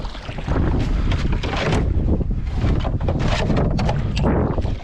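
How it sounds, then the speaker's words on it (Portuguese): Hard wind buffets the microphone on an open fishing boat during net fishing, a loud continuous roar with gusty surges and splashing water underneath. "o vento tá soprando muito"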